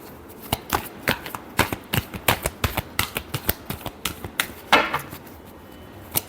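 Tarot cards are shuffled in a quick, steady run of crisp riffling slaps, close and fairly loud, with a brief denser burst near the end and no talking.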